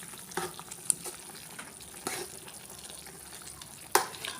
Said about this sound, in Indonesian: Saya masukkan garam, roiko, saya aduk-aduk lagi.